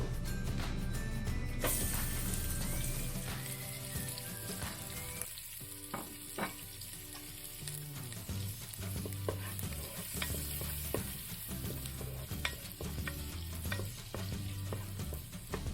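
Onion cooking with crumbled bacon in a multicooker pot gives a soft, continuous sizzle with repeated scraping and stirring clicks, fairly quiet and close, after a brief burst of louder noise at the start; no talking.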